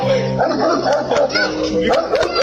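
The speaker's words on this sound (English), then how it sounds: "Dog's going crazy." Dog barking excitedly in a series of sharp, loud yips and barks mixed with whining, close by and irregular in rhythm, with voices nearby.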